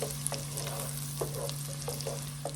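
Onions stirred together in a soup pot for potato and bacon soup, a steady low sizzle with several soft scraping spoon strokes scattered throughout, close and fairly quiet, with a constant low hum underneath.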